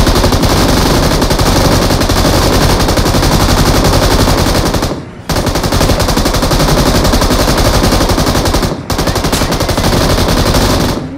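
An M249 machine gun in BGMI fires in long, loud, continuous bursts at close range, with two brief breaks in the stream of rapid shots.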